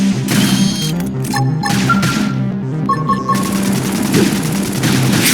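Video game combat in Xenoblade Chronicles X: dense, continuous bursts of automatic weapon fire with mechanical clanks and tonal effect chimes, loud throughout and layered over background game music.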